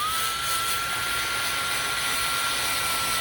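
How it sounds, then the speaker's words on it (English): A power drill spins a scrub brush with soapy water, cleaning a mushroom grow tent, with a steady, loud high-pitched whine and constant hiss, running without pause and with no talking. "I have this brush attachment for my drill"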